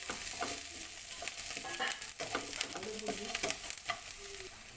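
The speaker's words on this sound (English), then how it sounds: "And now we have to put our garlic. And just saute for just a few seconds" Garlic sautes in a hot pan for squid adobo, a soft continuous sizzle broken by scraping stirs and light clinks of the utensil against the pan, with no talking.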